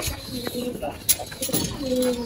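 Air fighter pigeons cooing in a loft, several soft low coos repeating close by with a few brief chirps and faint voices in the background.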